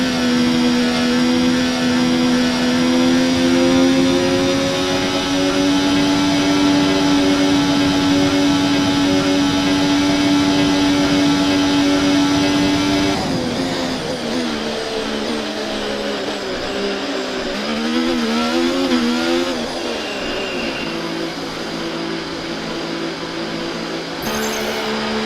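An F1 car in the F1 24 video game pulls away from its pit stop at the Azerbaijan Grand Prix, a steady high-pitched engine whine held loudly, then shifting and rising through gear changes as it rejoins the race.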